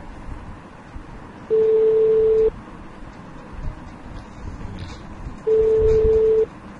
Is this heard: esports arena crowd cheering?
no